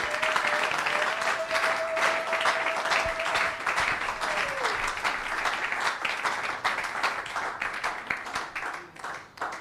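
Church congregation at a biblical seminary applauding and acclaiming, steady dense clapping with crowd voices and a sustained tone throughout, loud and continuous.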